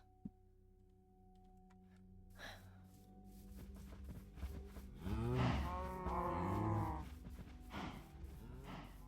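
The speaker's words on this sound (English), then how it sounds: "Let's go take care of some of those cows." Cows moo in the Minecraft video game, long drawn-out lowing calls that overlap and rise in the middle, with faint clicks and game tones before them and no talking.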